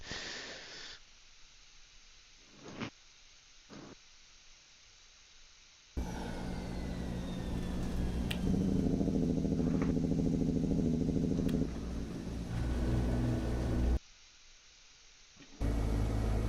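A heavy truck engine in Euro Truck Simulator 2, a 1,000 horsepower engine from a Peterbilt 379, idles, then roars loud as it revs hard for several seconds and settles back to a low rumble. No voices are heard.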